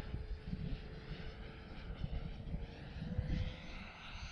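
An E-flite F-16 Thunderbird model jet lands in gusty wind, its electric ducted fan giving a faint whine with wind buffeting and a low rumble, growing slightly louder toward the end.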